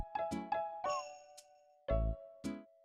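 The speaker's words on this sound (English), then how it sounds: "change up the game's music by adding some very festive sounding bells" Festive video game bells chiming during light snow flurries in a calm Nintendo autumn level, a sparse sequence of clear bright tones and jingles with short pauses between them.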